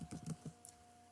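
Quick keystrokes on a computer keyboard while entering a street address into a business registration form, a short close burst of about five taps that then stops.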